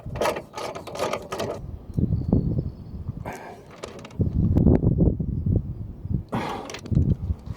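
Control arm bolts are threaded back in on a Ford Fiesta Mk7 in a series of close, rapid ratcheting bursts. Low clanks and handling noises fall between the bursts.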